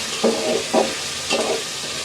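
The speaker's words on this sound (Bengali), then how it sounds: "পেঁয়াজের সাথে আলুটা ভাজা ভাজা হয়ে যাবে" Potatoes and onions frying together in a pan, cooked ahead of spinach; a steady sizzle runs throughout with three louder bursts of stirring and scraping, close and loud, no talk.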